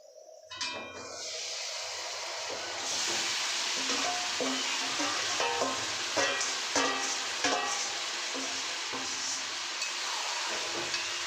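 Marinated mutton sizzles loudly in a pan with spices, steady broadband frying broken by repeated scrapes and clinks of a utensil stirring the meat over about eleven seconds, no voices.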